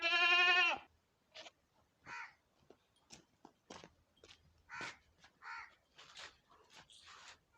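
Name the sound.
goat bleating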